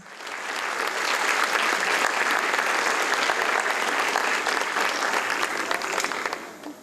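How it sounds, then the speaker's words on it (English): An audience at a Spanish-language book launch claps to welcome a speaker, a full round of applause that builds fast, stays dense and even for several seconds, then fades out. "Let's welcome Supreme Master Chin Hai with a round of applause."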